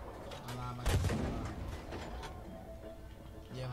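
Gunfire in a video game bursts out as one sharp loud shot followed by fainter echoing reports, heard under the voices of players talking during a livestream.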